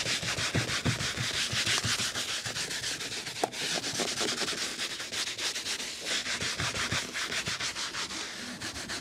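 A scrub pad works over the product-sprayed door panel of a Mercedes GLE during interior cleaning, giving close, steady back-and-forth rasping strokes in a fast continuous rhythm with no talking.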